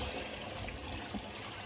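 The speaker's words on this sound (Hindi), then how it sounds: "और अब हम इसमें पानी ऐड करेंगे 2 कटोरे" Water poured from a bowl into a pot of browned beef paya, a steady trickling splash heard up close and alone.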